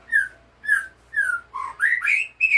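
A white-rumped shama (murai batu) of F3 grade sings clear, whistled phrases, three similar repeated notes followed by a quicker run of varied, rising calls, close and loud against a quiet background.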